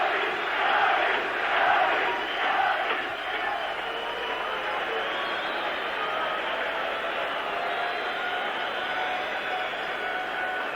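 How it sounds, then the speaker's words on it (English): Football crowd roaring and cheering on the terracing at a 1982 UEFA Cup quarter-final second leg between Radnički Niš and Dundee United, a loud, sustained wall of noise that swells early then holds steady throughout. "Great cacophony from the terracing."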